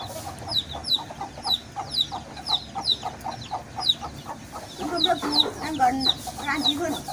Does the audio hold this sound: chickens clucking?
yes